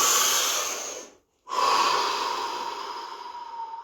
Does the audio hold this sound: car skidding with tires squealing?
no